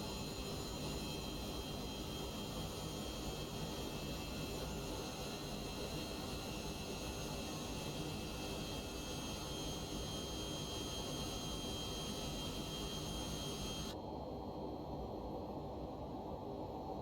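A McDonnell Douglas MD-11 in X-Plane 12 produces a constant, broad jet-engine roar with a high steady whine, holding for about seventeen seconds until the whine abruptly drops away near the end.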